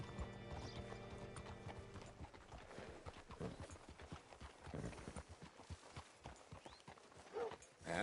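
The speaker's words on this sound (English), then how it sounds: "Hitch your horse up here." Horse hooves clop in the video game Red Dead Redemption 2, a steady rhythmic series of hoofbeats that slows toward the end, heard with a faint whinny and soft background game ambience.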